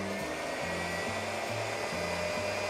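An electric mixer whisks egg whites for macarons with a continuous loud motor whir and a repeating low, pulsing wobble as the beaters turn, heard close and alone.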